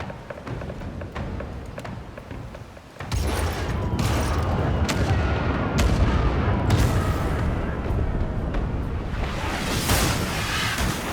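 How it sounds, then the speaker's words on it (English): Ship's port cannons fire in a naval video game, a broadside of sharp booms and cracks over a constant roar of sea and battle noise, with a voice speaking briefly at the start. "Fire the port cannons"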